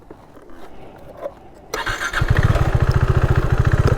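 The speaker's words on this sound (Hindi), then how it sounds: "चलो बाइक उधर घुसाते हैं" A motorcycle engine starts up after quiet ambience and settles into a loud, steady, rapid thumping rhythm close by.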